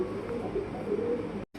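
Lahori pigeons coo in a loft, a low soft murmur that runs steadily under a busy ambient wash before a brief drop in level near the end.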